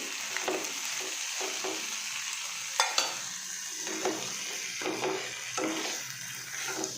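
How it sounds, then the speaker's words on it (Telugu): Aloo chat masala with soy sauce and green chilli being mixed in a pan or bowl, a steady scraping stir with soft sizzling and a few sharp utensil knocks, close and continuous with no talking. "మళ్ళీ మొత్తం మసాలా అంతా నేను పట్టేటట్టుగా కలపాలి"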